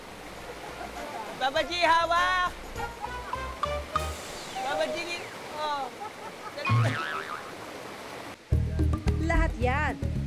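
A waterfall's steady broadband rush of falling water fills the background, continuous and moderately loud, while people talk and shout excitedly over it.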